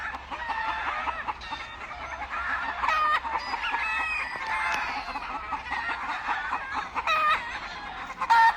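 A flock of roosters and hens on a Louisiana farm keeps up a busy din of clucking and squawking, with scattered crows and a few sharp calls standing out near the end. The birds sound close and no one speaks.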